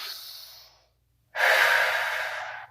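A deep breath during a yoga core exercise: a long airy exhale fades out, then after a brief silence a strong, close inhale rushes in and holds steady.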